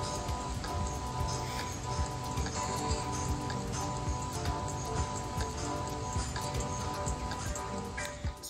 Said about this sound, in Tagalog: Ayan, medyo umuulan na naman.